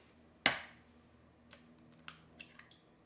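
Two large eggs go into a bowl: one sharp, close crack is followed by a few lighter clicks and taps.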